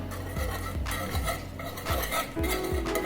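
A spoon stirs ingredients into a seafood chowder in a pot, giving repeated scraping, clinking strokes at a steady rhythm, heard close and alone without talk.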